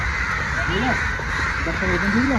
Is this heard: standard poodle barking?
no